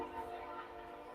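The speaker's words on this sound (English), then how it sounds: "Yeah, it's a train. 10 o'clock train is 2 minutes late." A train passes at a distance, a steady rumbling drone with a faint horn-like tone held throughout, fairly quiet and continuous with no talk over it.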